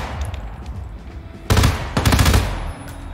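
Bursts of gunfire in the video game Hitman (2016), arriving as a loud cluster of rapid shots in the second half after a quieter, rumbling stretch.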